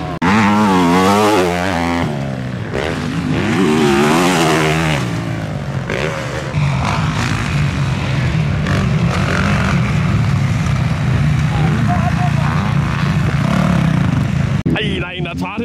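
A Yamaha 450 motorcycle revs hard on a dirt track, its engine rising and falling in loud bursts with a steadier droning stretch, while voices shout over it.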